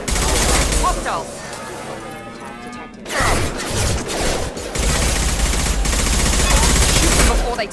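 Gunfire in Mass Effect 2, a colony firefight: sustained loud bursts of shooting with crashing impacts, a short lull midway, then renewed heavy fire until the end.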